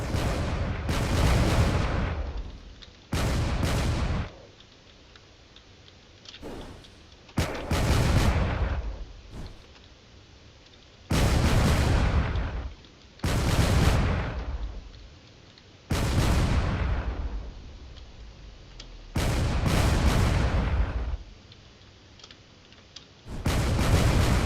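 Turrets in the video game Drone Wars fire in loud, booming bursts, each lasting about two seconds and separated by short gaps, repeating roughly eight times with sharp onsets and rumbling tails.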